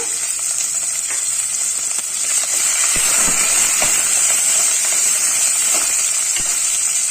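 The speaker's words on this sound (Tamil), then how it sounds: "இப்போ இதில் முக்கால் கப்பு பெரிய சின்ன வெங்காயத்தை இதில் போட்டுக்கலாம்" Shallots tipped into hot oil with cumin and a small piece of asafoetida in a pan, giving a loud, steady sizzle and hiss that swells slightly, with occasional soft clinks and stirring scrapes.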